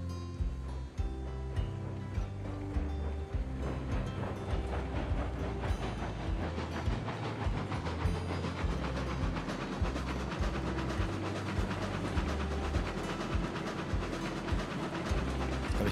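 A train pulls away on rails in Railroads Online, a steady rumbling roll with rhythmic low clanks and chuffing, loud and continuous throughout with no talking.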